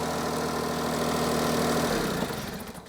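A Smart 451 car idling with a new genuine exhaust fitted, a steady close rumble with an even low thrum that softens slightly toward the end, no speech.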